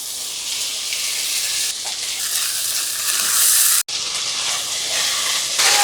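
Washed mushrooms sizzle and hiss loudly as they go into hot oil and frying masala, a dense continuous frying sizzle with a short clatter near the middle.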